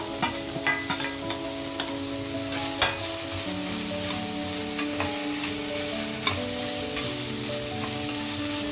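Ginger garlic paste, coriander and curry leaves frying in a pan, an even close sizzle with spatula clinks and a steady background hum, no one speaking.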